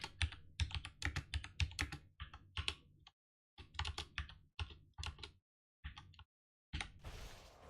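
Computer keyboard typing in bursts of rapid, close clicks, broken by short pauses and ending in a brief rush of noise.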